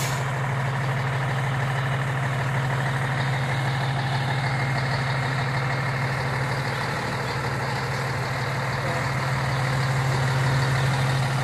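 A large diesel bus engine idles at a São Paulo bus terminal with a steady, loud low hum and rattle, unchanging throughout.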